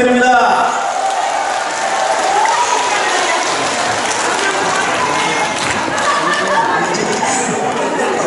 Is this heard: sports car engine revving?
no